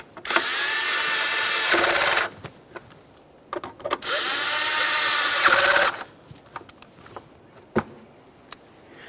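A power tool drives the center ignition coil mounting bolts on a 2012-2018 Nissan Maxima 3.5L V6, whirring loudly in two bursts of about two seconds each, separated and followed by small clicks and handling noises.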